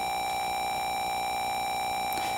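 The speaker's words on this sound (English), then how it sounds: "gotta use the last life potion and hear that beautiful recovery sound" Life potion recovery chime from The Legend of Zelda video game, a steady high electronic tone with bright beeping harmonics that sustains evenly throughout, alone with no talk.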